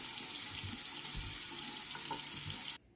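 Tap water runs steadily into a bathroom sink, close and even for nearly three seconds before cutting off abruptly.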